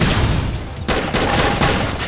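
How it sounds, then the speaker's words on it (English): A flame grenade goes off in the Xenoblade Chronicles X video game, a loud burst of fiery blast and crackling noise filling the clip, with a brief dip before the roar resumes. "Flame grenade!"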